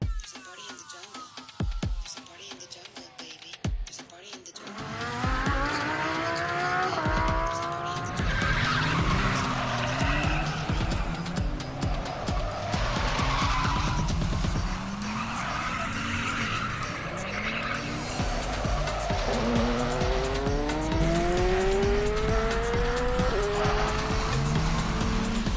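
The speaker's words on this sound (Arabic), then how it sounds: "دلوقتي في اللالا لاند في طنطا هناخد سباق عربيات" Race cars at an amusement park in Tanta squeal their tires repeatedly, with loud, continuous engine and skidding noise, rising and falling pitch sweeps, and crowd voices mixed underneath throughout.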